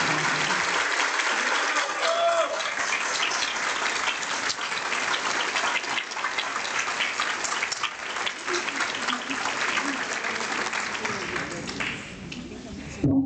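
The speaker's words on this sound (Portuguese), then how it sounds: "o Elcio merecia uma salva de palmas nossa." Applause at a state culture council meeting: sustained clapping from a room full of people, steady and loud for over twelve seconds, fading slightly before a brief final swell.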